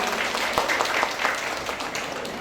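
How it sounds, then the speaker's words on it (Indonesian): Audience applause at a meet-and-greet with an author, a steady crowd clapping at moderate volume from a short distance for a couple of seconds, with no speech over it. "Boleh kasih tepuk tangan dulu dong buat Kak Amin."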